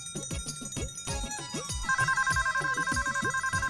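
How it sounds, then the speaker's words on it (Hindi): A mobile phone ringtone ringing, a steady repeating pulsed electronic tone that starts midway through, with speech-like sounds and clatter before it. "माँ का फोन आया, आवाज कहाँ से आ रही है?"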